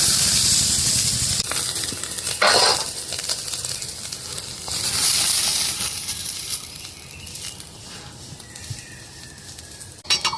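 Soybean chunks fry in hot oil in a pan, a continuous hissing sizzle that swells loud in two waves and then eases off, with occasional scrapes of stirring and no talking.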